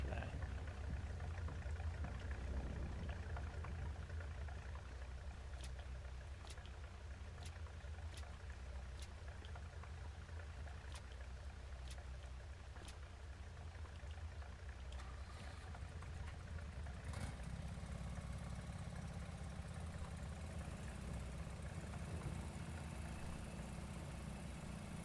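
A big farm tractor engine idling, a steady low mechanical drone that holds for the whole stretch, with a series of faint regular ticks and a shift in tone partway through.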